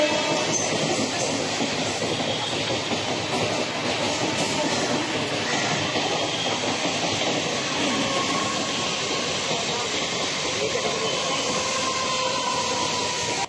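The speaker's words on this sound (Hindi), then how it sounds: "हम लोग स्टेशन पे आ ही गए, बस अब ट्रेन आने का वेट कर रहे हैं" A train pulls into a railway station, a loud, steady rumble of wheels and carriages with faint squeals and rhythmic clatter running throughout, with no talk over it.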